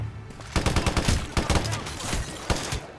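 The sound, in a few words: gunfire in Hitman Absolution video game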